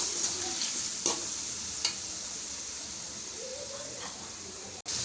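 Tomato and green chilli paste fries in a pan for a beef kofta curry, a soft continuous sizzle and hiss with a few brief stirring scrapes and a sharp click near the end, and nobody speaks.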